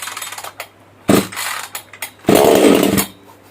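Modified, ported Newwest 728 chainsaw engine with very heavy compression, pulled over in short bursts and then catching to run for about a second, loud and close.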